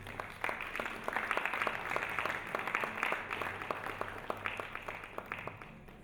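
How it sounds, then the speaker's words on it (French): Applause from the audience at a keynote talk on building, a sustained wash of many hands clapping at a moderate distance, steady for several seconds before thinning slightly near the end. "des applaudissements s'il vous plaît"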